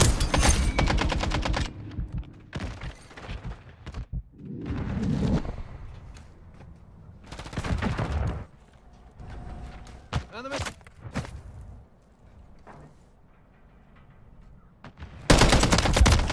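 Bursts of MTZ 762 rifle fire in Modern Warfare 3 on the Rust map, rapid volleys separated by pauses with footsteps and game effects, a voice talking in between.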